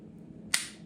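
A Springfield XD Mod 2 9mm subcompact pistol gives a single crisp, close metallic click as its trigger breaks during a dry fire, standing alone against low room hiss.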